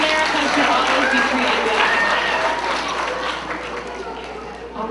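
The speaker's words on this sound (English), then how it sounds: "Give him a round of applause again" A school audience applauds a guest visiting an elementary school, broad crowd clapping that runs steadily and slowly fades, with some talking mixed in.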